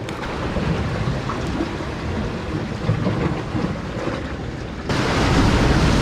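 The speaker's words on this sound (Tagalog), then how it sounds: "Lakas ng alon." Heavy, roaring ocean surf crashes continuously, a dense wash of water noise that swells louder near the end, with no voices.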